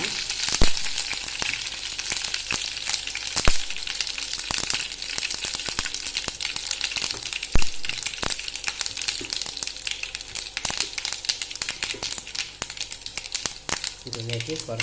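Fenugreek, mustard seeds and dried chillies frying in a pan for tempering, a continuous bright sizzle with frequent sharp crackles and pops, close and steady, with a voice talking over parts of it.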